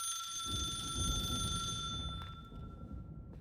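A phone rings in a horror video game, a steady electronic trill with high sustained tones over a low rumbling ambience, fading slightly near the end.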